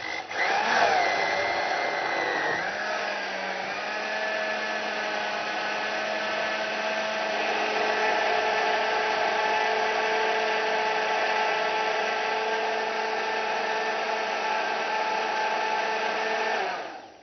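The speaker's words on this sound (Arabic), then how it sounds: "هنضرب بقى كله في الخلاط لما يبقى زي الكريمه" An electric blender whirs as it mixes black honey, eggs, oil and sugar into a cake batter. The motor holds a loud, steady whine with a pitch shift early on, then cuts off at the end.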